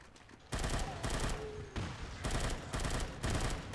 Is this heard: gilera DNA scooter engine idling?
no